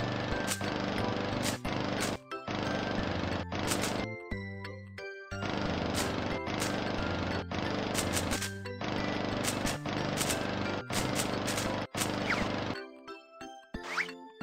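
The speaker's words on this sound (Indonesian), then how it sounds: "Ayo kita potong rumput." Loud buzzing, mechanical grass-cutting bursts repeat in steady pulses, with short gaps and a few chiming game tones between them, from a BabyBus children's cleaning game on Android.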